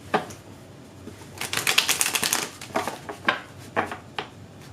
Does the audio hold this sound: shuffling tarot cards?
yes